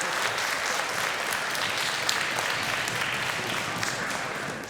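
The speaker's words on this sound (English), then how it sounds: "How about one more round of applause for the orchestra?" A school audience applauds the fifth-grade orchestra at a winter concert, a dense, steady wash of many hands clapping that carries on evenly throughout and tapers slightly at the end.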